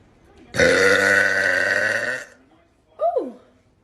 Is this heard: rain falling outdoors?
no